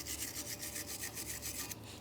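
A wire brush scrubbing the bushing base area of a 2006-2012 Ford Fusion steering knuckle, quick rhythmic back-and-forth rasping strokes, close and fairly quiet.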